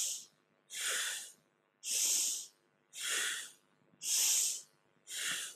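Deep, forceful breaths during a kundalini yoga spinal flex, about five strong airy inhales and exhales in a steady alternating rhythm, close and clear with no talking.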